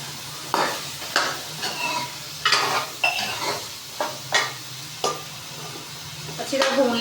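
Potatoes and peas fry in a pan under a steady sizzle, broken by regular scraping stirs about once a second, close up and with no voices.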